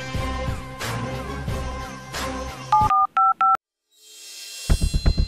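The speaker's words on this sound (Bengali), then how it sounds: "দাঁড়া আমি এখন তার ফোন দিতেছি" A handful of clear paired touch-tone beeps ring out in quick succession as a phone number is keyed in, following louder background sound and leading into a short silence.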